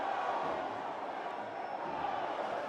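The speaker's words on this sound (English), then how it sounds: "And the fans applaud." Football crowd in a stadium at a women's under-20 World Cup qualifier, a steady broad wash of applause and cheering heard from a distance, even and unbroken, with faint commentary mixed in.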